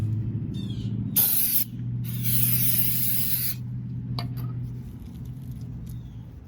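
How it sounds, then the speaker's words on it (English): Two bursts of aerosol brake cleaner spray hiss onto a car brake rotor, a short one then a longer steady blast, followed by faint clicks and rattles nearby. "you want to spray it with brake cleaner, get that off"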